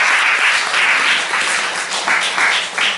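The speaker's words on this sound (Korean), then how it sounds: "공수님한테 큰 박수 한번 부탁드리겠습니다." Loud audience applause in a lecture hall for a guest speaker, a dense steady wash of many hands clapping that swells and dips over a few seconds, with no voices over it.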